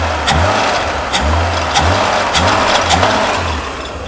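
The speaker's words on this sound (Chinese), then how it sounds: "这个引擎拉转速的声音" A rebuilt Mercedes W126 300SEL engine revs in five sharp blips at a steady rhythm, each rising and falling back to a rumbling idle, close and loud with no talk.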